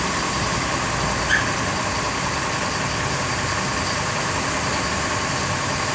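A full Sinar Jaya passenger bus idles before departure, its diesel engine giving a constant low rumble and steady hum from inside the cabin, unchanging throughout with no talk.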